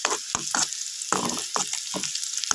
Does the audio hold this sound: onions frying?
yes